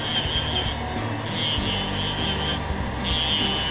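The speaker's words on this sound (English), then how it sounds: "this is my Todak USA drill bit, and I love this drill bit" Todak USA electric nail drill bit filing a nail, giving a steady, continuous grinding rasp close by with slight swells in intensity and no talk.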